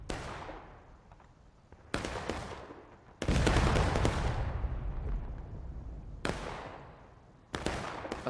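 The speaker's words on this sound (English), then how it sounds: "Artillery's honestly just wasting their shots." Heavy artillery shells booming in a large multiplayer battle game, four or five big detonations at irregular intervals, each a sharp blast with a long rolling decay, loud and without talk.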